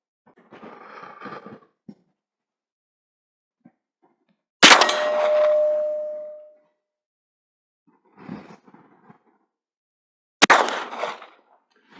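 A single-shot rifle fires at steel targets 50 metres away with two loud, sharp reports. The first is followed by a ringing metallic clang from the target, and quieter rustling handling noises fill the gaps between shots.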